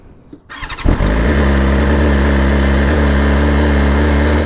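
BMW S1000RR motorcycle engine cranking and catching after a brief quiet moment, then settling into a loud, steady high idle that runs on without a break.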